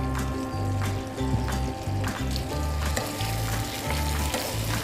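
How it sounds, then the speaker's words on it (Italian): Mackerel fillets sizzle and fry steadily in a hot pan after a splash of water is added, a dense crackling hiss with a low rumble and occasional stirring taps, close and continuous. "E un filo d'acqua per far completare la cottura dello sgombro"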